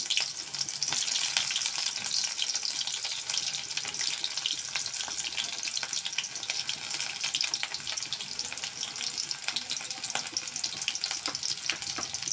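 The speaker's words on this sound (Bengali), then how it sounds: "চুলায় তেল দিয়ে দিছি এখন দিয়ে দেবো পেঁয়াজ" Onions frying in mustard oil on a stove, a soft, even crackling sizzle that holds steady and fairly quiet from start to finish.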